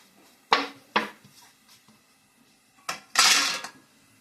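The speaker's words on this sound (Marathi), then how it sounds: "असं चांगलं हलवून घ्यायचा" A spoon stirring black pepper and spices in a cooking pot, with a few sharp metallic clinks and scrapes, two close together early and a louder cluster near the end, separated by quiet gaps.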